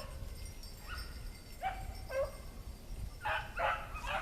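Hound dog baying on a rabbit trail outdoors, a few distant yips and barks spaced over a few seconds against steady low wind and ambient noise.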